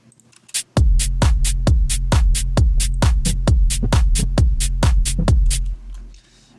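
Future rave drum loop with a steady four-on-the-floor kick and bright off-beat closed and semi-closed hi-hats ticking between, loud and close, cutting off near the end.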